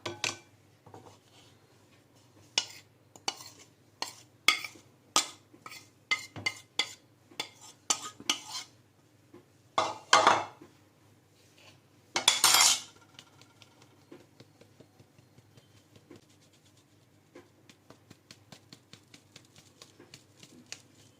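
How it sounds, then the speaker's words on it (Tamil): Maida flour and baking powder sifted through a metal strainer: a run of light metallic taps, scrapes and clinks in irregular bursts, close and fairly quiet, thinning out toward the end. "மைதா மாவும் பேக்கிங் பவுடரும் ஒன்றா சேர்த்துட்டு இந்த மாதிரி ஒரு ஸ்ட்ரெயினர் வச்சு நாம் இதில் சலிச்சுக்கலாம்"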